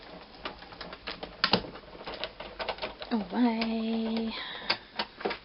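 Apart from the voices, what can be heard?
die-cutting machine being cranked to run a die through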